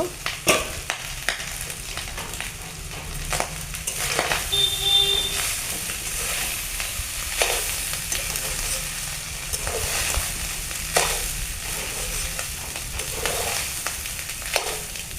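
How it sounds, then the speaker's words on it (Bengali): Cooked rice is stirred into a paneer mixture in a pan over a clay stove, with half the rice added first. A low, steady sizzle runs throughout, broken by repeated scraping strokes of a spatula and soft clinks. "অর্ধেকটা ভাত দিয়ে আগে মিশিয়ে নিয়ে তারপর বাকি ভাতটা দেব"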